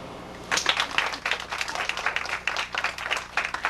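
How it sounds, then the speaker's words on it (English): Elementary school audience clapping at Norman Elementary, starting after a half-second pause and continuing steadily as a moderate, close field of scattered hand claps. "You can clap."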